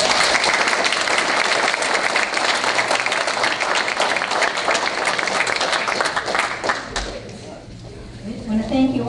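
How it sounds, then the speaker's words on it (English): An audience at a village event applauds award winners, with many hands clapping in a dense, steady burst for about seven seconds that then thins out into faint room sound and a voice starting to talk. "let's give all the award winners a round of applause"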